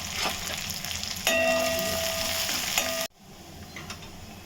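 Onion, garlic and curry leaves sauté in oil for a crab curry, giving a close, steady sizzle with scraping stir strokes and a faint ringing tone. The sound cuts off abruptly near the end, leaving only quieter background.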